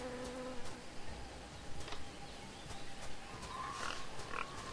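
A bee's thin buzzing hum in Tales of Monkey Island drones steadily at low volume over a constant ambient backdrop, with a few faint brighter tones near the end.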